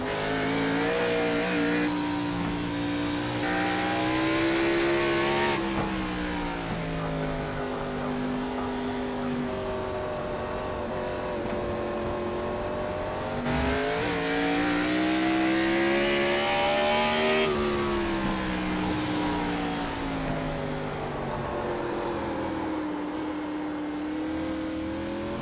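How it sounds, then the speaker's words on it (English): A NASCAR race car in the iRacing sim works through the Charlotte Roval infield, its engine note rising and falling as the throttle opens and closes under braking, a loud continuous drone with repeated sweeps of revs across the whole stretch. "Want you to listen to some of the gas and brake throttle movements in this infield."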